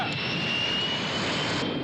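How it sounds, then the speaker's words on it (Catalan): Air Force One's jet engine losing power gives off a loud, steady roar of broadband rushing noise that holds unbroken for the whole stretch, with a thin high whine running through it. "El motor 1 està perdent potència."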